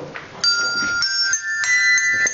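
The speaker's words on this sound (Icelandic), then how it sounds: "Nei, þetta eru bjöllir eða. Lítið klukkur." Small bells struck in a recording studio, a few bright ringing strikes with sustained, pure tones that overlap and decay, played close and fairly loud after a soft murmur at the start.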